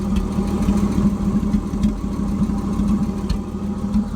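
A 1958 Chevy Delray sedan's engine idles through its unfinished exhaust, a low, steady, loping rumble heard up close, with slight irregular pulses and no talking.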